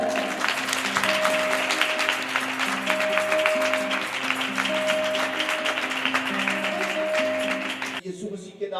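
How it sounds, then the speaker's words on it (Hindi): Loud, steady applause from a church congregation at a Grace Bible Fellowship service, sustained with sustained music tones beneath it for about eight seconds before cutting off. "आपकी जोरदार तालियां"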